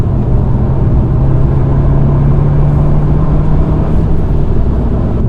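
A Fiat 595 Competizione with an Akrapovic exhaust hums along at steady speed, its engine note a loud, constant low drone from inside the cabin, with road rumble underneath.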